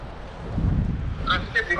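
Strong wind of about 30 miles per hour buffets the microphone near the San Francisco approach, making a steady, roaring rumble that swells and gusts, with faint voices near the end.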